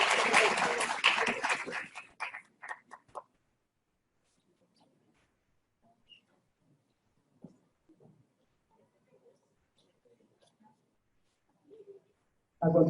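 An audience at a teachers' conference applauds a speaker: a dense, fairly loud burst of clapping fades out over about three seconds. Near-silence follows, broken only by faint scattered sounds, until a short loud sound at the very end.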